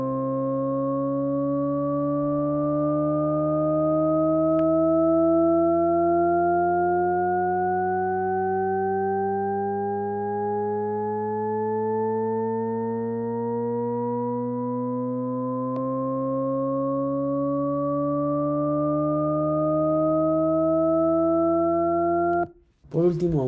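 A Shepard tone of layered pure sine tones glides steadily upward for over twenty seconds, smooth and continuous, giving the illusion of endless rising pitch before cutting off abruptly.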